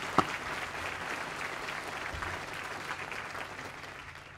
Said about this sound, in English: So please join me for another round of applause.